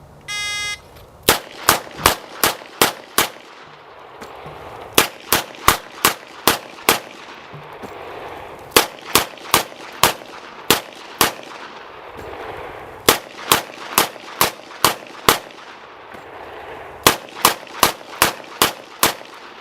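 Rapid strings of shots from 6-shot revolvers, thirty rounds in all, fired in quick bursts of about six separated by short reload pauses; each crack is sharp, loud and close, with a faint hum between volleys.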